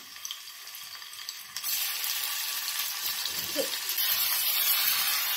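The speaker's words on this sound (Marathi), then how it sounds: "हे पनीरचे तुकडे आहेत ना हे फ्राय करून घेऊया।" Paneer pieces fry in a pan of oil and butter. The sizzle starts soft, then turns louder and steady about a second and a half in, with faint stirring scrapes under it and no talk.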